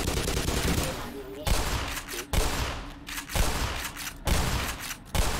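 Gunfire aimed at armour in the game Black Mesa: long, loud bursts of rapid automatic fire broken by short pauses, with a muffled voice underneath.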